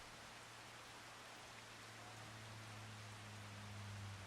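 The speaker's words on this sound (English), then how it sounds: "It is raining, Tom. Yeah, a little bit of rain." Steady rain falls on a farm in the video game Farming Simulator 25, a faint continuous hiss of drops with a low hum beneath it and no talking.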